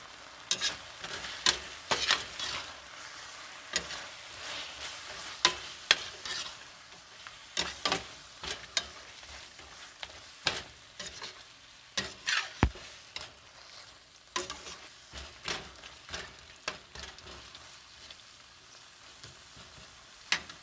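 Oil sizzling in a pan while ingredients for Indian-style chickpea curry (chana masala) are sautéed, with a soft frying hiss and frequent sharp clicks and scrapes of stirring scattered over twenty seconds, close and moderately loud.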